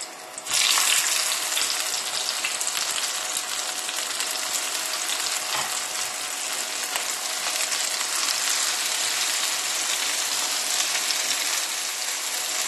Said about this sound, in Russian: И теперь мы эти рулетики немного поджарим на сливочном масле.